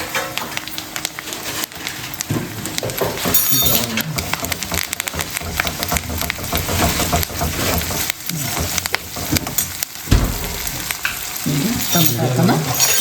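Green chili paste ground with salt sizzles and spits steadily in hot oil in a pan already holding mustard seeds, cumin, onion and curry leaves, a dense, continuous frying hiss with occasional stirring.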